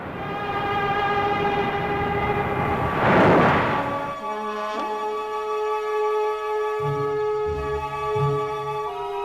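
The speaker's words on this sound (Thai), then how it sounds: "รถไฟความเร็วสูงชิงคังเซนครับ" Shinkansen high-speed train in Japan, a sustained loud rushing roar with steady whistling tones, swelling as it passes close by, then easing into a lower rumble with shifting tones.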